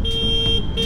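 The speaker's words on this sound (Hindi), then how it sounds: "nice horn," A short, steady electronic horn tone from a Bounce Infinity E1 electric scooter sounds close up, a single continuous beep lasting under a second.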